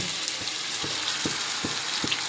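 Seelavathi fish pieces with chili powder sizzling in a pan for Godavari-style fish curry: a steady, hissing fry close up, broken by soft regular scrapes of stirring about every half second.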